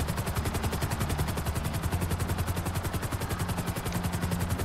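A helicopter in the video game Grand Theft Auto V beats steadily with rapid rotor chopping and a constant rumble, loud and continuous with no talk.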